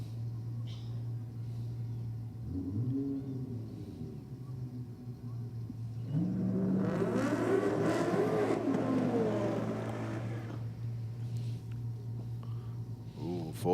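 A supercharged drag race car engine drones from the track, a steady hum that swells into a louder rising roar partway through before easing off, with commentators talking over it.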